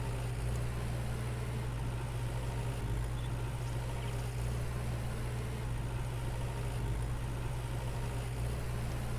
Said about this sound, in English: Let me stop the tractor for a second.